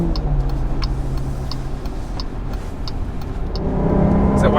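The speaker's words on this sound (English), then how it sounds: "Is that wide open throttle?" A 2021 Jeep Grand Cherokee L engine drones inside the cabin under wide open throttle, rising in pitch and loudness toward the end, with an indicator-like ticking over it.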